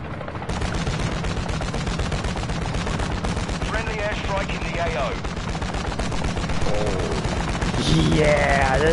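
Dense rapid gunfire from the video game Call of Duty Modern Warfare 2, continuous automatic bursts filling the whole stretch with game effects layered on top, loud and close.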